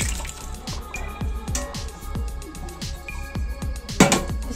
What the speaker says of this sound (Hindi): तो मैं अभी इसमें ये जो गोश्त मैंने बॉईल किया हुआ है ये सारा इसमें डालूंगी।